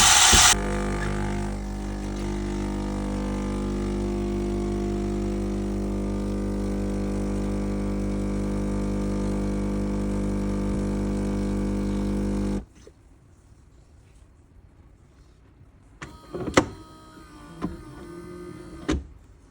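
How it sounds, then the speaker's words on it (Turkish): A Philips 5400 coffee machine brews ground coffee with a loud, steady mechanical hum and pump drone that stops abruptly, followed by quieter trickling and a few faint clicks and rattles. "Ve gördüğünüz gibi kahvenin yapılışına başladı."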